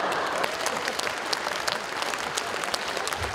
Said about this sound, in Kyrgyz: концерттин көшөгөсү жабылаарда тура калып кол чаап, куудулду сахнадан узатышты